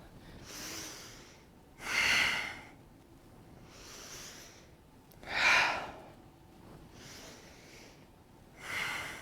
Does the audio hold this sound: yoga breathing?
yes